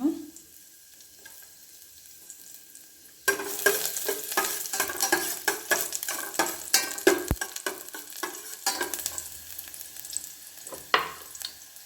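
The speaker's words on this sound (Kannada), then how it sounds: "ತುಪ್ಪ ಬಿಸಿಯಾದ ನಂತರ ಶುಂಠಿ ಬೆಳ್ಳುಳ್ಳಿಯನ್ನು ಹಾಕಿಕೊಳ್ಳೋಣ" Ginger and garlic hit hot ghee in a pan for a vegetable soup, setting off a loud, sustained sizzle with crackling bursts and stirring clatter after a quiet start.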